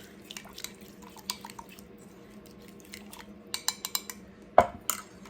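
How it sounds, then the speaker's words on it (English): Spoon stirring seasoning for pepperoni pizza sliders: faint scraping under a low room hum, then a quick cluster of light clinks and taps near the end. "I'm gonna stir that up."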